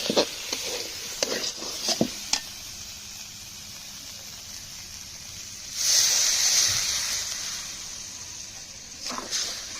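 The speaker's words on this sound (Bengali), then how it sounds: "এবার জল দিয়ে দেবো।" Water poured into a pan of sizzling crab curry masala made with river-caught crab bursts into a loud hiss. Before it, a few sharp clinks and scrapes sound, and the hissing rises and fades back over several seconds.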